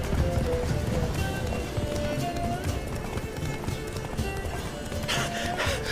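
Horse hooves clatter in a fast, steady gallop in The Witcher 3, with game music and effects layered over the rhythmic beats.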